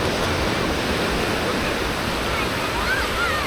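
A water outlet pours onto Canasvieiras beach in Florianópolis, making a loud, continuous broadband rush of flowing water that stays even throughout.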